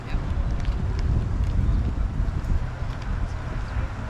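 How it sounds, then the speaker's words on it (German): Steady wind rushes and buffets across the microphone at the Landungsbrücken in Hamburg, a continuous low roar with no talking. "Ist windiger geworden."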